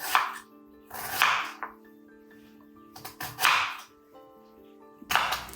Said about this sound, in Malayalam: ഞാനിപ്പോൾ ചെറുതായിട്ട് മുറിച്ചെടുക്കാമെന്ന് വിചാരിച്ചു.